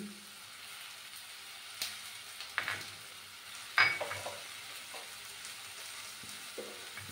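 Food cooks softly in an oil-brushed pan, a faint continuous sizzle broken by a few sharp clicks and scrapes of a utensil against the pan.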